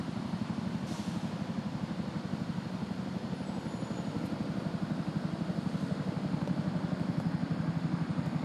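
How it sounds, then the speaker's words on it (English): A steady rhythmic beating rotor chop, a helicopter droning continuously and growing slightly louder over several seconds. "Can you hear that helicopter coming in?"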